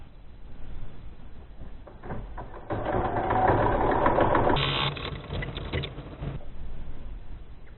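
A sewing machine stitching around a fabric face mask, a steady fast mechanical whir that speeds up in the middle and holds, close and alone with no talk.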